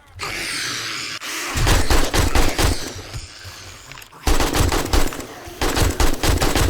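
Rapid automatic gunfire in the zombie survival game 7 Days to Die, loud close bursts of shots with a brief pause midway, then another long burst.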